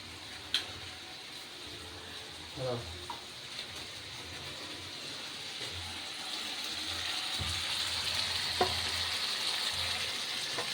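Spices frying in a pan as the base for a red lentil fritter curry: a steady hiss of sizzling oil with a few sharp clicks and scrapes from stirring, close and moderately loud, with no talking.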